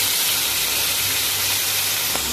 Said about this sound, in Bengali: মাংস ভাজার জন্য তেল একটু দিয়ে দিলাম